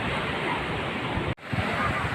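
Sea waves rolling in at Marina Beach in Chennai, a steady broad wash of surf with wind noise, briefly cut off mid-clip before the roar resumes.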